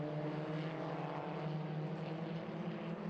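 A camera drone flying over the Lime Rock Park race track during an FRP 1600 feature race gives a steady, continuous propeller drone with a droning engine-like hum, fairly loud and unbroken, with no voices.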